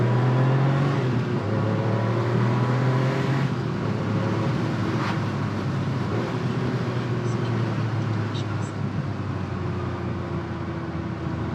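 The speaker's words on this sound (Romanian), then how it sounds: "Am deschis geamul puțin ca să auziți și voi câteva secunde motorul ăsta sublim, răcit cu aer" Air-cooled engine of a new Porsche with a seven-speed manual running on synthetic fuel, a steady droning hum with shifting engine tones, heard from inside the cabin through a slightly open window, continuous and fairly loud.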